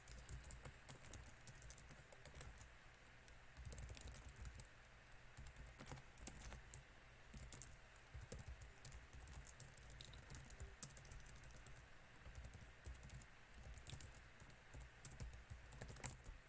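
Steady computer keyboard typing, faint and close, with irregular key clicks running continuously through a quiet room during a podcast recording.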